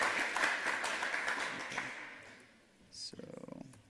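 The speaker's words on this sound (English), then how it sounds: "give him a round of applause" An audience claps for a presenter, fairly loud and dense at first, then thinning and fading, before speech and a brief tone take over near the end.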